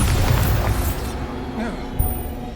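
A Bombarda spell bursts with a loud booming explosion in Hogwarts Legacy, a heavy rumbling blast that fades over a couple of seconds beneath game sounds.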